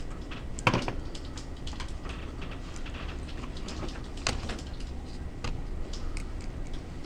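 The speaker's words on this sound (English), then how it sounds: "now I'll just pull out the calculator and I'll type that in" Soft, irregular plastic key taps from a calculator sound over a steady background hum, with one or two slightly louder clicks.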